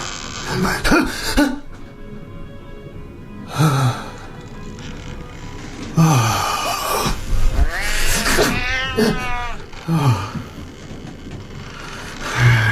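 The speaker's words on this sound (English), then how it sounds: "Damned cat." A cat meows and caterwauls repeatedly at close range in a tense audio drama scene, long wavering cries mixed with breathy sighs and low sounds, with voices nearby.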